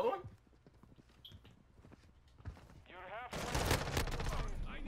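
Pistol gunfire in the Modern Warfare 2 beta: rapid, dense bursts of shots crowd the final seconds, loud and close, after a stretch of quieter game sounds and brief voices.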